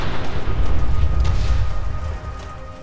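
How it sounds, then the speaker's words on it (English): Deep rumbling explosions in the video game Fallout 4, a heavy low boom that swells loudly and then slowly fades over a few seconds. "we heard the sound of explosions getting louder"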